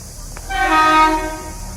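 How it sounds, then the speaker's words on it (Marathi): A train horn sounds one loud, sustained, harmonic blast close by as a train passes, swelling and then fading over rail rumble. "आता मी तुम्हाला एक ट्रेन दाखवते"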